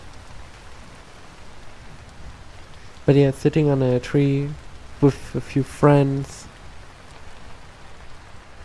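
Steady rain falls in the video game Vintage Story, a soft continuous hiss under someone talking in short bursts in the middle of the stretch.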